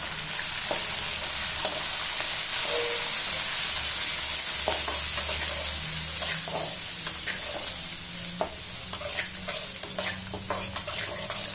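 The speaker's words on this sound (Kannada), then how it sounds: "ಇದೆಲ್ಲ ಸೇರಿಸಿ ಒಂದು ಎರಡು ನಿಮಿಷ ನಾವು ಮಿಕ್ಸ್ ಮಾಡ್ಕೊಳ್ಳೋಣ" Poha fries in a pan with spices and chopped coriander stirred through it, a continuous sizzle under frequent scraping and clinking spoon strokes, close and fairly loud.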